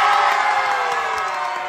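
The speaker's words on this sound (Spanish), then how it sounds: "Una porra para la nuera." Guests at a wedding party game cheer and shout together, a loud, sustained crowd roar with whoops that holds steady and fades slightly toward the end.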